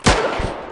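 A single loud gunshot from a firearm in the survival shooter Deadside cracks sharply up close, then trails off into a lingering rumble with a faint second thump.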